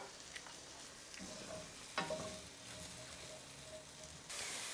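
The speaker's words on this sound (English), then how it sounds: "That hissing sound that the mushrooms are releasing is very good" Mushrooms in olive oil hiss and sizzle softly in a pan on a home stove, a faint steady crackle with a brief clatter of stirring midway and a louder burst of sizzle at the end.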